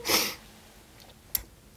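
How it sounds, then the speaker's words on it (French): A single short, sharp human sneeze bursts out at the start, then quiet room tone follows with a faint click near the end. "Je vais éternuer."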